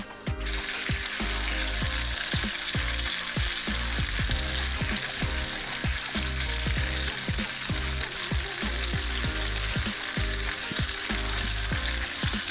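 Floured pieces of venison heart fry loudly in a pan, a dense, continuous sizzle with crackling pops running steadily from start to finish, no talking.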